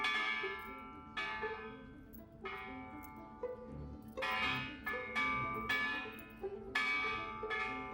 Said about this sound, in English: The bell is designed to ring like a wind chime.